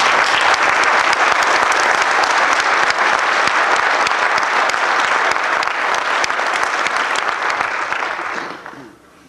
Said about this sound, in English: So would you please stand and give them a round of applause.